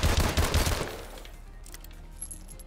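M1 Irons rifle in the video game Advanced Warfare, firing a quick burst of loud, close shots in the first second. The shots fade into a lingering decay with faint background game noise.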